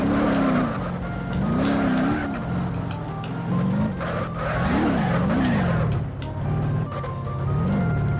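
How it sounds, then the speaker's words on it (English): A drifty car sliding in BeamNG, its engine roaring loudly while the tires squeal in long wavering howls that rise and fall through repeated slides. "This is a very drifty car."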